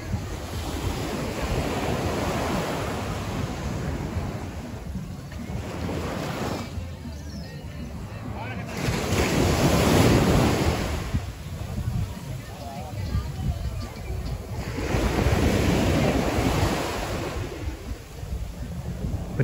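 Sea waves at Playa Santa beach in Guánica, Puerto Rico, surge and wash ashore in broad, loud swells rolling in every few seconds, mixed with gusty wind on the microphone.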